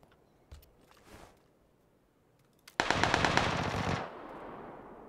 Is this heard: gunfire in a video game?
yes